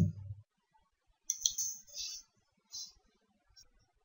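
Computer mouse clicking at a desk while setting up phpBB3 forum software, a few sharp small clicks scattered over several seconds, close and quiet with near silence between them.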